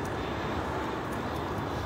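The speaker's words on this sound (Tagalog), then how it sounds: "Oh, ayun na yung eroplano, oh." An airplane flies near an airport, heard as a steady, distant broadband roar of engine noise that holds even throughout.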